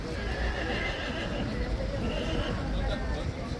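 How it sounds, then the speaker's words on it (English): A horse at a King's Troop ceremonial event whinnies over nearby clip-clopping hooves, with crowd babble and voices in the background. "The other horse is super vocal, actually."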